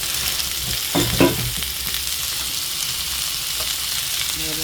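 Snake gourd stir-fried in a pan with onion, giving a steady hot sizzle with a couple of sharper stirring clatters near the start, close and moderately loud, with no voices.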